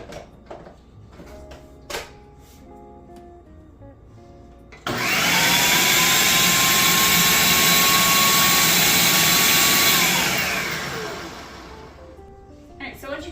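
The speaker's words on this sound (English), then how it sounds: "I'm just going to put this onto my food processor. Just give it a little mix just to combine that sugar with that graham cracker crust." Food processor mixing graham cracker crumbs with sugar: a loud whirring motor starts abruptly, runs steadily for about five seconds and winds down, with faint speech before and after.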